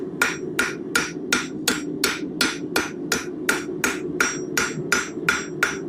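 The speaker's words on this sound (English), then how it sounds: "we kind of turn the material as we're hammering" Steady, rhythmic hammer blows rounding a metal bar while forging a corkscrew, about fourteen sharp ringing strikes evenly spaced, close and loud over a low background hum.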